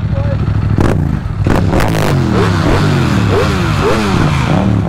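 Several Ducati Panigale V4 S and Aprilia RSV4 sport motorcycles rev loudly and accelerate away nearby, engine notes rising in repeated sweeps over a steady roar, with voices mixed in.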